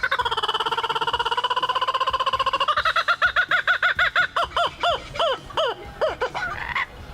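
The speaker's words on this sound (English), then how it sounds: "Okay, our next animal is a kookaburra." A kookaburra's call: a long rolling trill that breaks into a rapid run of loud, staccato cackling notes, rising and falling, with no talking.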